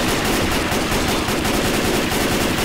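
Rapid, continuous gunfire from the Left 4 Dead 2 video game, a dense loud burst of automatic shots filling the whole stretch with no pauses or talk.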